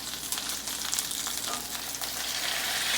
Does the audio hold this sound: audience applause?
no